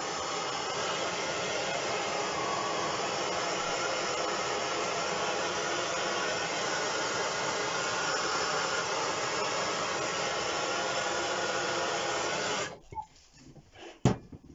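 A heat gun blows steadily on a coated lead fishing weight, giving a loud, even roar for about thirteen seconds before it cuts off, leaving quiet handling noises.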